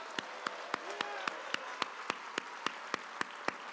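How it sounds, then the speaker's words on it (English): An audience at a tribute gathering claps in steady unison, sharp evenly spaced beats over a soft crowd murmur, fairly faint and continuous. "if you give him a big round of applause now."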